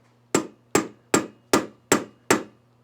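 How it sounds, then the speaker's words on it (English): Six firm hammer blows on metal over a urethane die, ring forming at an even, steady pace, each a sharp thud with a short ring, close and loud with no voices. "I'm not being gentle with the hammer."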